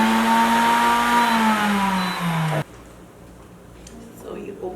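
An Instant blender whirs loudly while blending nut butter, its motor pitch sagging slowly under the thick load before it stops abruptly near the middle. Faint handling noises follow in the quieter room.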